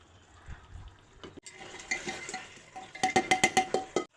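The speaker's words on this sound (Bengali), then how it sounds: "এই মাংসর মশলার ভেতর এই ভেজে রাখা কাঁঠালগুলো আমি ভালো করে কষিয়ে নেব" Fried jackfruit being stirred into mutton masala in a pan, a spoon scraping and clinking against the metal in a quick run of sharp knocks that grow louder and faster toward the end.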